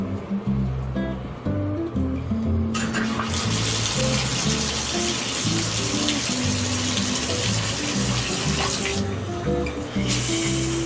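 Water runs from a shower in a continuous broadband hiss, loud and close, with a brief rise in brightness partway through as the spray shifts.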